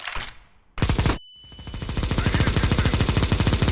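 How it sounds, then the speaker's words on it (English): Rapid automatic gunfire from Counter-Strike: Global Offensive, a short burst, a brief pause with a ringing tone, then a sustained loud rattle of fast shots. "listen to the difference between the shooting after. First in CSGO"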